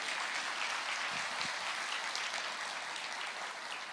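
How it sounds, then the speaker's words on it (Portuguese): A church congregation claps during a Portuguese-language sermon, a steady, fairly faint wash of applause from a distant crowd holding even throughout. "Pode aplaudir."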